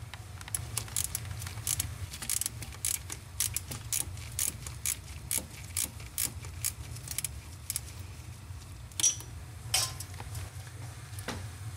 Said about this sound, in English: I just got the 12 on there. See if we can't crack it loose.